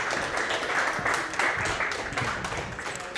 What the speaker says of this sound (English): Can we welcome them with a big round of applause, please?